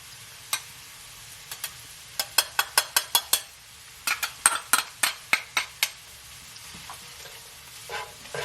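Onions and garlic are sautéed in a pan, with a soft background sizzle broken by quick bursts of sharp spatula clicks and taps against the pan, coming in rhythmic clusters with brief pauses between.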